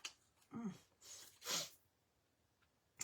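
A single quiet sneeze, preceded by a short sharp intake of breath, nearby in an otherwise hushed room.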